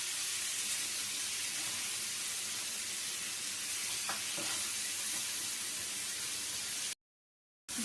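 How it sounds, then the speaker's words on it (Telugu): Cashews, tomatoes and coriander fry in hot oil in a pan for an egg masala curry, giving a steady, dense sizzle with faint stirring scrapes, before a sudden brief dropout near the end. "కొన్ని జీడిపప్పు పలుకులు, టమాటాలు, కొత్తిమీర యాడ్ చేసి బాగా ఫ్రై చేసుకుందామండి."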